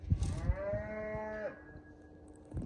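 Cattle in a corral give one long, drawn-out moo that rises and then falls off, with soft scuffing and rustling around it.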